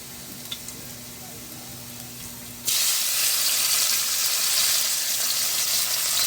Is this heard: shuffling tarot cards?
no